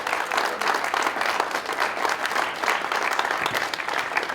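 An auditorium audience at Creighton University claps and cheers to welcome a guest onstage, dense sustained applause throughout, loud and even with a faint crowd murmur beneath.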